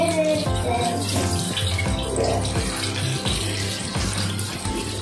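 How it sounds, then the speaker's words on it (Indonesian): Running tap water pours steadily over cooked papaya being rinsed in a kitchen sink, a loud, continuous splashing stream close by, with no talking. "Nah kita cucinya pakai air mengalir seperti ini ya mam."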